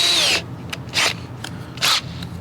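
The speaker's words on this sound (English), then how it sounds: "once the pilot's started, all you gotta do is use a bigger bit than the weld itself" High, whining drill bit bursts into the steel of a GMC OBS dually truck cab, drilling out spot welds; three loud bites of roughly half a second each, separated by quieter pauses, close up.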